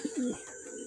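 Racing pigeon cooing up close, a soft low coo in two quick throaty pulses, then quiet.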